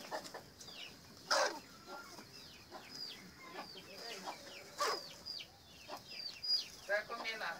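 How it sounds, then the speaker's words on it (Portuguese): Several pet hens in a backyard flock of around forty birds, cluck and chatter in scattered short bursts, with sharper calls standing out now and then over a steady background of soft clucking. "tem mais de 100 galinhas aqui"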